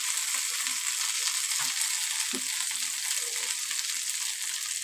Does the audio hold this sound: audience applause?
no